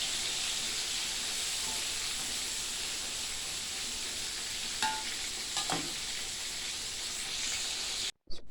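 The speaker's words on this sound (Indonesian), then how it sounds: "lalu goreng tempe yang sudah dimarinasi dengan bumbu" Tempeh marinated in spices fries in hot oil, giving a steady broad sizzle and hiss throughout, with a few brief clinks of stirring near the middle before a sudden cut at the end.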